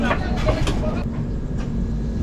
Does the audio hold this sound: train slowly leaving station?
yes